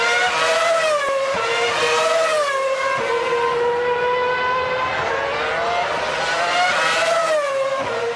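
Formula 1 race cars scream past at Monza, their high-pitched engines rising and falling in sweeping pitch as they overtake, loud and continuous with several gear shifts and no speech.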